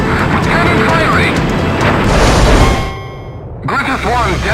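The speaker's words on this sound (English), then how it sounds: "The shot cannon is preparing to fire again! In 5 seconds! 3, 2, 1! Cannon firing!" A shot cannon fires in the Ace Combat X video game, giving a heavy booming blast with metallic clang mixed into loud game sound, then a short drop-out and voices speaking.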